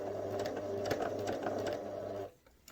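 Sewing machine stitching fabric pieces of a Rowan Bunny rabbit around a tight curve, a steady close mechanical whir with a faint rhythmic clatter, running for about two seconds and then stopping.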